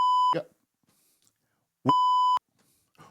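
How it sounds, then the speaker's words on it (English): Two loud electronic censor beeps, each a steady tone about half a second long, separated by a pause, with brief muffled voice fragments next to each beep. "You were supposed to hit the censor."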